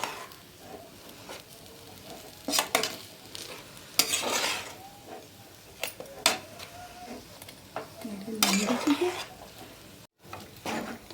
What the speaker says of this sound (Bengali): ধনে পাতাটা আমি ভালো করে মিশিয়ে নিচ্ছি